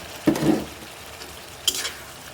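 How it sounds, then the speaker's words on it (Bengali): Prawns dropped into spices frying in a pan, a loud hissing burst as they hit the oil, then a quieter sizzle and a second short scraping stir. "মাছগুলো দিয়ে দিচ্ছি"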